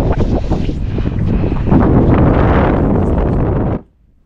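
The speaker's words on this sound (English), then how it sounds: "It's a bit windy here." Strong gusty wind on a Swiss mountain roars and buffets steadily, loud and close, then cuts off abruptly near the end.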